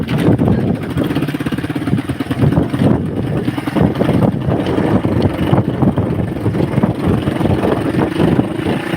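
A motorcycle pulling away in gear, a loud low engine rumble under heavy wind buffeting on the microphone, continuous and close throughout.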